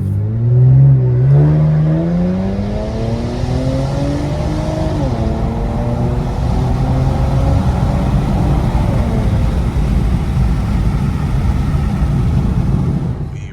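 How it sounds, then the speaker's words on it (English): Infiniti Q60 with muffler and resonator delete, loud close engine revving with rising and falling pitch sweeps and a continuous raspy exhaust drone throughout, the turbo spooling as revs climb. "Even now, like, I can really still hear like the turbo spool"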